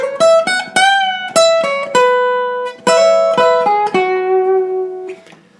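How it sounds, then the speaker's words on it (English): Acoustic guitar plays the intro lead line of a song, a quick melodic run of plucked notes with ringing sustains, solo and close, ending on a held fading note. "So the lead line that happens in the intro sounds like this."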